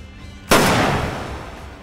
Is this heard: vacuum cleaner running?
no